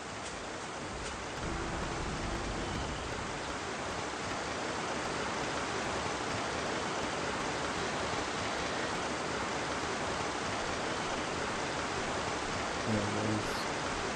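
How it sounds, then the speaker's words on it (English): A steady roar of falling water fills the scene from a waterfall in the video game Trespasser, a continuous broadband rush that stays loud and unchanging throughout with no voices over it. "Now we're coming up at the waterfall over here."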